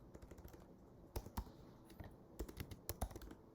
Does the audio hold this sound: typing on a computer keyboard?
yes